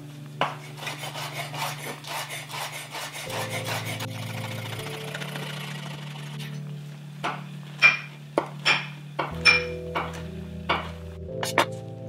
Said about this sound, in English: take 2 of these beautiful bacon slices and slice them up